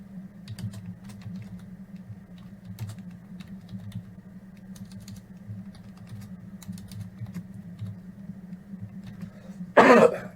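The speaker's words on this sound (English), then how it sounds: "typing data directly into RStudio can be troublesome" Steady, close typing on a computer keyboard with quick irregular key taps over a low hum, ending in a short loud cough or throat clear.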